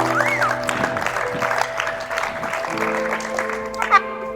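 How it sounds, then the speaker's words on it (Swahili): An audience at a Don Bosco community gathering in Korr claps together for several seconds, the applause mixed with some voices and background sounds. "Naomba mjipigie makofi."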